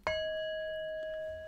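A single struck Tibetan singing bowl rings out with a bright attack, then a pure sustained tone with shimmering overtones that slowly fades.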